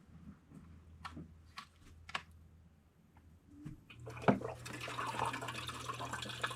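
Water starting to flow through an off-grid dome system for growing mushrooms. Faint knocks come first, then the water rushes and trickles steadily at close range from about four seconds in.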